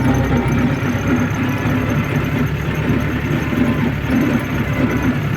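A heavy diesel engine of a YuMZ tractor rumbles steadily nearby, a low continuous drone with no speech.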